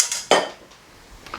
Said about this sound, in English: Now we're gonna add our 1 can of black beans